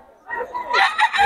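A rooster crows once nearby, a loud rising call that breaks into a strained, drawn-out finish.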